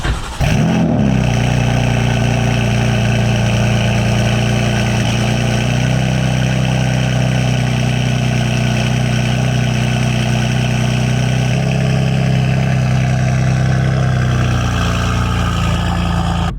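A BMW M3 fitted with an Active Autowerke single mid pipe exhaust cold starts with a sharp flare, then settles into a loud, steady, low idle that runs close and continuous, with a slight dip in tone partway through.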